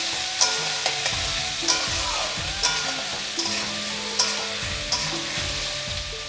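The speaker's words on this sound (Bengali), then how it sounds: "কিছুক্ষণ মটনটা ভেজে নেব।" Mutton sizzles steadily in hot oil with chopped onion, green chili, salt and turmeric, while a spoon scrapes and stirs the pan every second or so.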